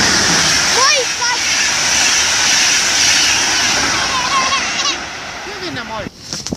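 A passing train roars by steadily, a broad rushing noise that holds for several seconds before easing off, with a voice speaking over it.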